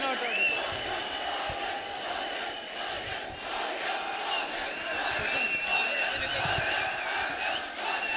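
A large crowd shouts and clamors continuously at a student election candidate speech, a dense wall of raised voices with no pauses, loud and close.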